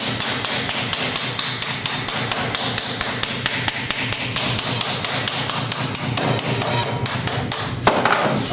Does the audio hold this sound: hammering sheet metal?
yes